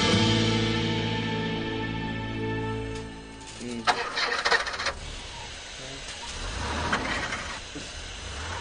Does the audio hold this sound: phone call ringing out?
no